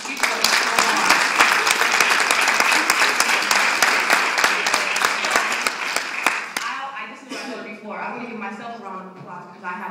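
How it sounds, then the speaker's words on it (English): Audience at an installation ceremony breaks into loud, dense applause for a colleague, which gives way after about six seconds to a voice speaking over a thinning room. "Please give her a round of applause."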